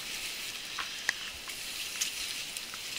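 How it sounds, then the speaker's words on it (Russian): Steady soft hiss of light rain at a WWII German dugout excavation, with scattered small ticks and patters of drops, fairly close and even throughout, with no voices. "Дождик идет, хорошая погода."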